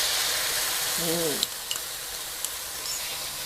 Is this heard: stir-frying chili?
yes